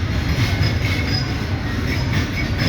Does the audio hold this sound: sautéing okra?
no